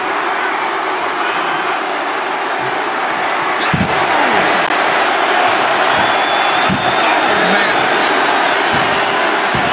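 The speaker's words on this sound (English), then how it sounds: "Mark is really getting the crowd going" Arena crowd in the WWE 2K25 wrestling video game, a steady loud roar of cheering filling the whole stretch, punctuated by a couple of sharp slam impacts.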